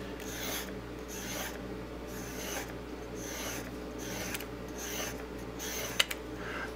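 A knife blade is drawn across a sharpening stone in a run of regular, soft scraping strokes at close range, with a small click near the end and no voices.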